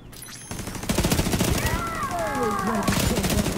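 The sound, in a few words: turret firing in video game The Division 2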